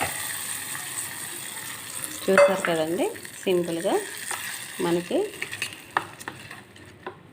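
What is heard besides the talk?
tempering added and stirred into ginger chutney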